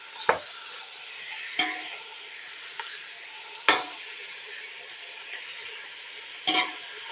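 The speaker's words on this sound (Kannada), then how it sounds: "ಇದನ್ನು ಸರಿಯಾಗಿ ಎಣ್ಣೆಯಲ್ಲಿ ಫ್ರೈ ಮಾಡುವ ಫ್ರೆಂಡ್ಸ್." Pork pieces for pork chilli frying in oil, a continuous close sizzle punctuated by four sharp spatula knocks against the pan at irregular intervals, no voices.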